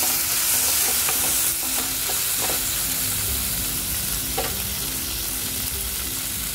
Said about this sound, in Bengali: দেখো আমার টমেটো কুচানো, আলু, পেঁয়াজ কুচানো, কাঁচা লঙ্কা কুচানো সব ভাজা হয়ে গিয়েছে।